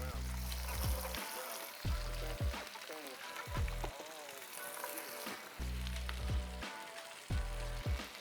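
Pork sizzles in a hot pan, a steady crackling hiss that carries under a voice, with intermittent low hum and clatter as cooking continues.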